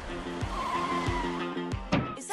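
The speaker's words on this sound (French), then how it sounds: "C'est une voiture?" A car pulls up with tires skidding and squealing, a sustained engine tone punctuated by several sharp bursts of skid noise, the loudest near the end, with no talking.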